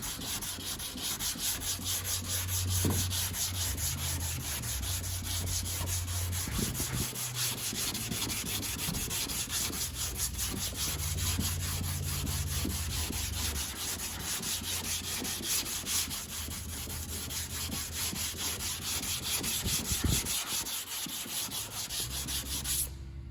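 Hand sanding of car bodywork on a Nissan S15, prepping areas for body filler: continuous rhythmic abrasive rubbing strokes, close and steady throughout with a few brief knocks, no talking.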